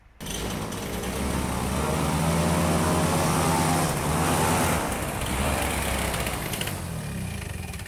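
A small engine drives a homemade wheeled mini airboat, a loud continuous buzzing roar close by that starts abruptly and holds steady with slight surges.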